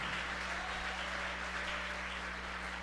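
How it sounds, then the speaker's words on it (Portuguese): A church congregation applauding during a Portuguese-language service, a continuous even clatter of many hands over a steady low hum, lasting the whole stretch with no speech. "Palmas para o Senhor Jesus"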